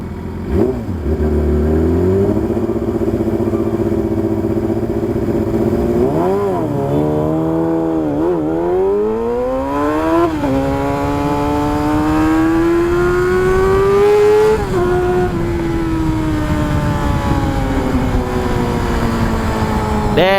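Yamaha R6 sport motorcycle on a morning ride, its engine loud and close, revving up and down through the gears with rising pitch sweeps and wind rush, no talk.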